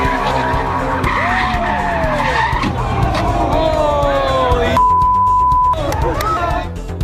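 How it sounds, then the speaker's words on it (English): A Mustang skids at a car show, tires squealing in long sweeping whines over loud engine and crowd noise, with a steady electronic beep near the end. "A Mustang nearly running into that crowd of kids after crashing into the curb."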